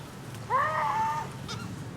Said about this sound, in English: We are being swarmed by birds.